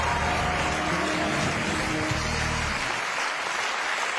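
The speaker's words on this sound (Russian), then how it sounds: "Ваши аплодисменты." A studio audience claps at a television game show, a loud, full burst of applause that holds steady and then cuts off abruptly near the end.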